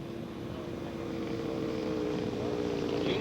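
A scale model submarine attacker aircraft comes in to land, a steady propeller engine drone at moderate distance, with wind in the background.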